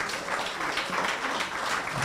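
An audience claps in a steady, dense burst of applause that holds at an even loudness for the whole stretch, with no voices over it.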